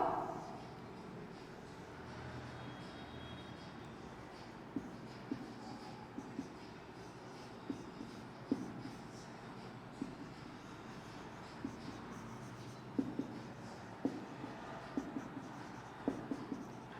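Diagram drawn by hand during a botany class: faint scratching strokes of pen or chalk, with sparse soft taps scattered through a long, quiet, steady stretch.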